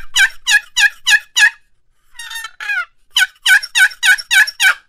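Wooden box call scraped to imitate a wild turkey hen, loud and close: a run of five sharp raspy yelps, a softer drawn-out scratchy stretch, then seven more evenly spaced yelps in steady rhythm, with no talking.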